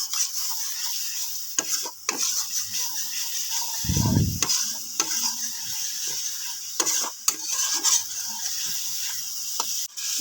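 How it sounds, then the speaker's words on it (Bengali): Spices sautéing with turmeric, chili powder and salt, heard mainly as repeated scraping and clicking stirs of a spatula in the pan. A faint sizzle and one low thump sit midway through. "মশলাটাকে ভালোভাবে কষিয়ে নেব।"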